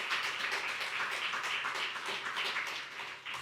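A church congregation applauding during a sermon, a dense, sustained wash of many hands clapping at once that stays fairly even and loud throughout, with no talking over it.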